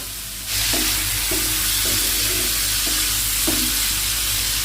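Large whole prawns fry in hot oil in a pan with a steady loud sizzle, while a spatula scrapes and stirs in regular strokes about once a second, with no talk.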